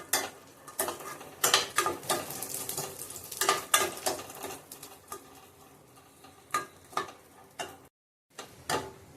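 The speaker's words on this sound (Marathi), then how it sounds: "मनुके बघा चांगले तुपात भाजले गेलेत," Black raisins roasting in a spoonful of ghee in a pan on low heat. A spatula clinks and scrapes against the pan in irregular taps and bursts over a faint sizzle, with a short silent gap near the end.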